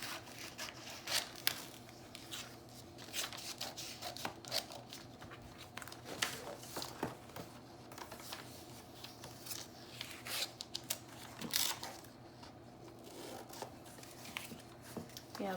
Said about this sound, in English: I'm gonna cut this yellow out.